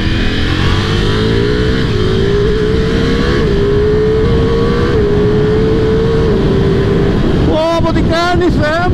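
Ducati Multistrada V4S motorcycle engine under way, a loud, close, steady drone with the pitch slowly climbing, then rising revs and gear changes with a rasping note toward the end, heard over wind noise.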